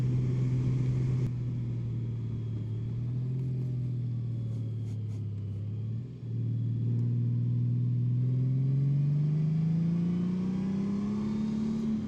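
A 2025 Honda Goldwing motorcycle engine drones steadily up close. Its pitch climbs and then dips briefly at a gear change before rising again as it pulls through the next gear, with wind noise behind it and no talking.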